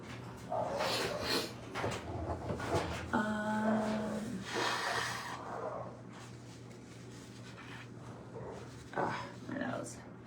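Several dogs bark excitedly in bursts, while someone talks over and between the barks, with a brief tonal animal call in the middle.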